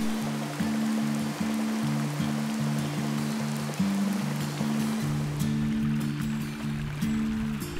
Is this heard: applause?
no